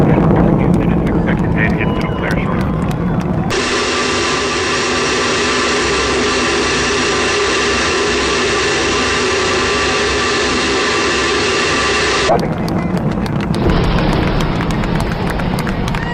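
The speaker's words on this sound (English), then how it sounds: "Solid rocket booster separation confirmed." Space Shuttle Discovery's engines roar continuously during launch, a loud, dense, steady rumble that holds for several seconds, with broadcast commentary and radio chatter heard before and after.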